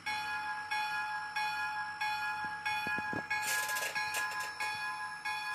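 Electronic bell of a model train ringing in a steady repeating clang with a rhythm of about once per second, loud and alone, with a few brief clicks and a short hiss partway through.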